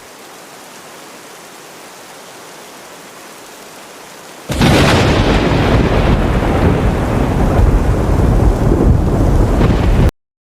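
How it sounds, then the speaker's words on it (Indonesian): Heavy rain and thunder in the Sakura School Simulator video game: a faint hiss gives way abruptly to a loud, dense roar of rain with rumbling thunder that continues steadily, then cuts off. "Kayaknya aku nunggu hujan berhenti dulu lah."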